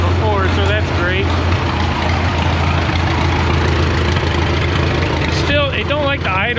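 An old crawler tractor engine idles roughly with a steady, loud, low rumble throughout, while someone talks briefly near the start and again at the end.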